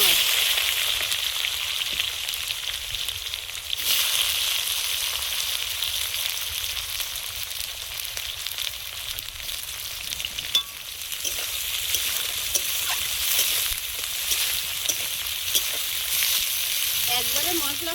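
Onions frying in hot oil with whole garam masala and cumin seeds, a dense continuous crackling sizzle close up with occasional stirring clinks, a voice speaking briefly over it.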